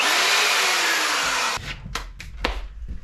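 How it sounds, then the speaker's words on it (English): A 1/2-inch power drill runs on a Bluetti AC200P power station with a loud, steady whir for about a second and a half, then stops, followed by a few knocks and clatters. "1/2-inch power drill."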